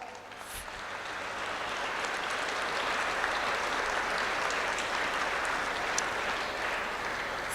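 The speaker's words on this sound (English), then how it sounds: "You deserve a big round of applause" A large audience claps continuously at a college of engineering career launch celebration, a dense and steady wash of applause that builds quickly and holds at full strength.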